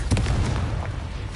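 A Confringo fire spell bursting in the video game Hogwarts Legacy: a loud, booming explosive blast with rumbling low end, fading over about a second.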